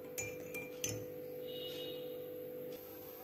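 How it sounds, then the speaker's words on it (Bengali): A spoon stirring mint tea with lemon juice in a glass, a few bright clinks against the glass at the start, then a quieter steady swirl over a constant background hum. "লেবুর রস যোগ করে আমি চামচ দিয়ে হালকা করে নেড়ে দিব"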